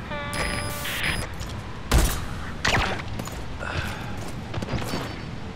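A sniper rifle shot from Quiet in Metal Gear Solid V, a single loud sharp crack near the two-second mark, followed by a second impact and scattered game effects, with no talking.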